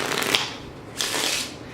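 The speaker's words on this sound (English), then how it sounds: "your riffle shuffles also sound snappy and quick" Quick, snappy riffle shuffle of a Celestial Red & Black playing card deck, two crisp bursts of card flutter heard close and alone.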